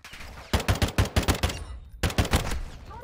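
Automatic rifle fire in a first-person shooter: two separate loud bursts of rapid, evenly spaced shots, the first lasting about a second and a half, then a brief pause before the second burst, with no talk.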